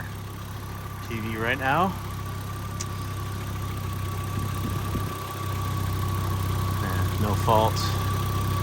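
A rich-running Audi UrS4 engine idles roughly and steadily in the background, a constant low hum with a faint whine throughout, while someone talks briefly over it.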